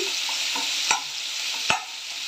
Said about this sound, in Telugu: ఉల్లిగడ్డలు, బాగా ఫ్రై అవ్వాలి.